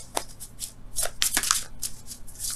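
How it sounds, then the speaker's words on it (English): Tarot cards shuffled and handled up close, with quick riffling flicks and crisp card snaps in an irregular rhythm, no talking. "Let me get another card for that."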